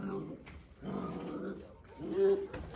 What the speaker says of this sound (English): You see, they play now. They're not fighting.